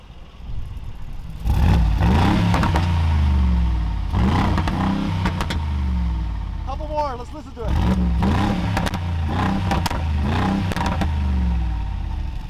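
Loud, deep exhaust revs from a Brabus B40-700 Mercedes G63 SUV with valve-controlled exhaust in sport mode, in repeated bursts, each swelling and dropping back to a rumbling idle; someone speaks briefly between revs.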